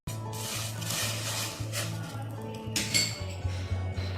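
Carrots tipped into a pot of boiling stock for hot and sour chicken soup, heard as close clattering and clinking of cookware and utensils, with a brighter clink near the end and a low steady hum beneath.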